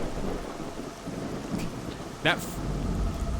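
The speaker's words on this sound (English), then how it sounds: "That crack of thunder just actually made me jump then." A sharp crack of thunder in the S.T.A.L.K.E.R. Clear Sky video game, breaking over steady rain and storm rumble, with a few faint voice sounds.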